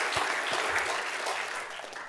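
Audience applause during a survivor's testimony talk, a dense, steady wash of clapping that holds for about two seconds with no voices over it.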